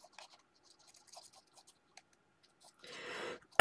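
Glue spread on a small paper strip for a flower-shop scrapbook album page: faint, sparse scratchy dabs, then a longer brushing smear and a final sharp tap, all quiet and close.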